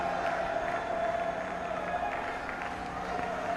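Cricket crowd applauding and cheering Virat Kohli's century in a Test against the West Indies, a steady broad wash of clapping and crowd noise from a large stadium audience, distant and sustained throughout.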